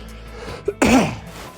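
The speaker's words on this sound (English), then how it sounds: "I need to stop coughing in you guys' ears" A single sharp cough bursts out after a faint throat sound, close to the microphone and brief, against quiet room noise.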